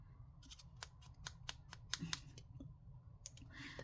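Scissors snip small pieces of paper for a floating butterfly card, giving faint, quick, irregular cuts close by with a few pauses in between.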